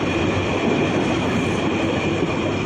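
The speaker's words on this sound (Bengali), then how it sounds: "আরেকটি ট্রেন চলে আসতেছে," A train passes close by near Dhaka airport at night, a loud, steady rumble of wheels and carriages that fills the whole stretch without letting up.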